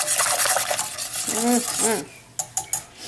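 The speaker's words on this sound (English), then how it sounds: "2 tablespoons of cornstarch. Stir, stir, stir, stir." Egg drop soup thickened with cornstarch is stirred briskly in a pot, giving steady close scraping and swishing with a few liquid swirls, then several sharp utensil taps against the rim.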